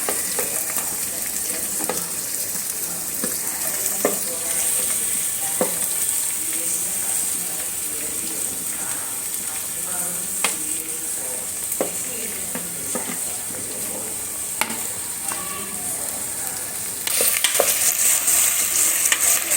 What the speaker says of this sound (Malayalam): ജസ്റ്റ് ഒന്ന് സോട്ട് ചെയ്യാം നല്ല വഴന്നൊന്ന് വരണ്ട